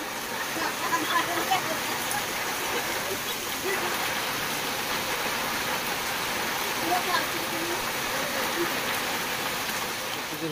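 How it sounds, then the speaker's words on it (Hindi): Steady heavy rain pours down in a dense, continuous hiss that fills the whole clip, loud and close, with no breaks. "देखंतु प्रबल जोर वर्षा होछि"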